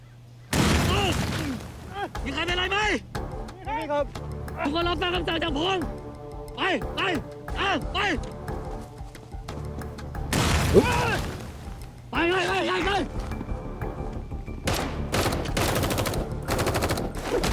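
Bursts of gunfire and machine-gun fire come from a Thai drama series playing on a screen. They are mixed with dialogue, music and sharp impacts, and people talk over the action.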